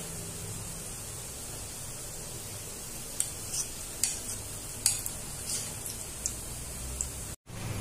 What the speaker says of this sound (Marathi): आता ते फुलल्यावर थोडे वरती आल्यानंतर आपण साइड साइडने चमच्याने फिरवणार आहे